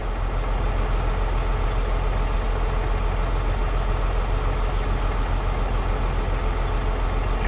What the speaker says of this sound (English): Let's hear that tractor again.